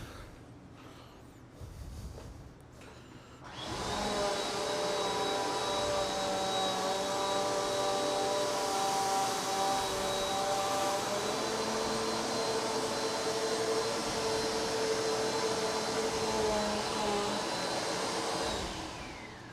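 A Eureka Airspeed Compact vacuum cleaner switches on and runs over carpet strewn with cereal, a loud steady motor whine with a high tonal hum holding evenly after some brief handling noises.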